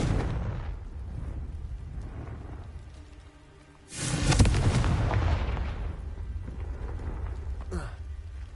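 Confringo spell in Hogwarts Legacy detonates in a sudden booming blast over a constant rumbling game soundscape, followed by a long rolling roar and a sharper crack near the end.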